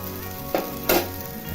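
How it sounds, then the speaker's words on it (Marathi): Water boils in a pot on a gas stove turned up high, a soft, steady hiss broken by two brief bubbling bursts. "आता पाण्याला उकळी आलेली आहे"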